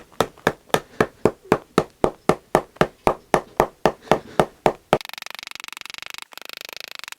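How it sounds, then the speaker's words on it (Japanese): Steady, rapid blows of a flat hammer face on a stacked leather shoe heel, about sixteen sharp evenly spaced strikes, close and loud, then a brief buzzing mechanical noise. "そしたらハンマーの平らな面で叩きます。"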